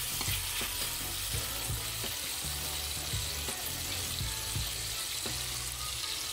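Chopped capsicum and tomato fry in a pan with a steady, close sizzle and scattered soft clicks as they are stirred, with no one talking.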